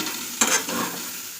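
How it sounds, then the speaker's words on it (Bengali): Soybean chunks frying in a pan and being stirred, a brief burst of sizzle and scraping that rises abruptly, then settles into a low steady hiss. "মানে সোয়াবিন ভাজা করে নিচ্ছি"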